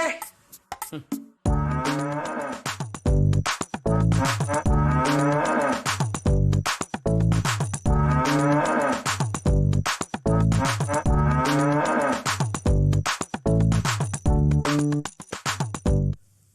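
Cattle moo loudly and repeatedly, one long call after another filling the whole stretch, close and dominant with no talk over them.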